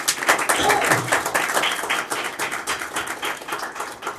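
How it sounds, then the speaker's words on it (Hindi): Congregation clapping at a Passover church service, a dense, fairly loud burst of many hands applauding with irregular sharp claps and a few voices underneath. "तालियां बजाएं"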